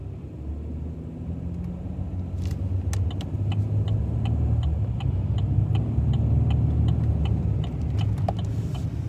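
A 2015 Chevy Silverado with a slipping transmission idles at a stop, its steady low engine rumble filling the cab, with faint ticking and small clicks scattered over the drone.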